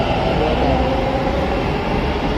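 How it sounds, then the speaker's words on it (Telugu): A train rolls past close by, opposite a railway station. A loud, continuous rumble of rail cars fills the short stretch with no speech. "పోయింది అది రైలు కూడా"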